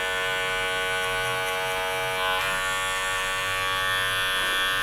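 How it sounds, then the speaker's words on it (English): Electric hair clippers buzz with closed blades while cutting a high skin fade, a loud continuous close-up hum with a slight shift in pitch midway. "moving on to our clippers and closed, and we're going to do exactly the same using just the corners of the blade"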